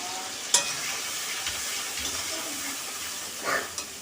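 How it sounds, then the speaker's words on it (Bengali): Spice paste hisses and sizzles in a hot pan for a prawn and elephant-foot yam curry, a steady broadband fry with a few sharp pops and stirring knocks, close and fairly quiet, with no talking. "দিয়ে দিচ্ছি মশলা পেস্টটা"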